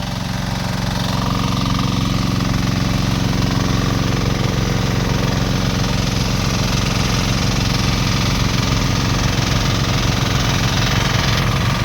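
Two engine-driven water pumps run together on a single hose line drawing from a very deep source, a loud, steady, close mechanical drone with rapid knocking pulses that holds unchanged throughout.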